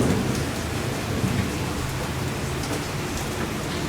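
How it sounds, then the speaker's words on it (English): Rain pours steadily in a loud, dense hiss, with a deep rolling rumble of thunder running underneath throughout. "Got some good thunder there"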